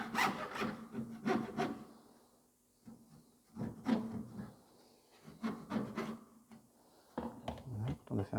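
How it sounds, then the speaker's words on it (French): Hand saw cutting through a steel tube held at an angle, with rhythmic rasping strokes in bursts separated by short pauses; a voice talks between and over the sawing. "pour faciliter la découpe, il est conseillé de mettre notre tube, de le pencher en fait. Comme ça, notre scie reste bien à l'horizontale"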